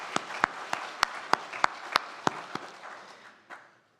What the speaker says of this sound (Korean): 우리 감사의 박수를 한번 드리도록 하십시다.